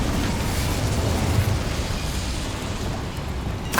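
An Incendio fire spell blast in the game Hogwarts Legacy, a steady rushing, rumbling roar of flame that holds for several seconds, then a brief sharp burst at the very end.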